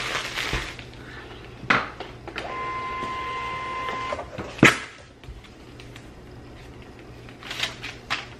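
An inkjet-style printer runs off an eBay shipping label, giving a steady mechanical whir with a few sharp clunks and carriage knocks spaced through the run, close by and with no talk over it.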